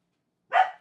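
A dog gives a single sharp bark, close and loud, after a brief silence, with the start of another bark cut off at the end.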